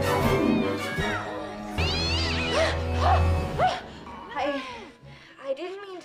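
A cat in a foreign feature film meows and yowls in drawn-out, wavering cries over a low rumbling background, with several separate calls close together.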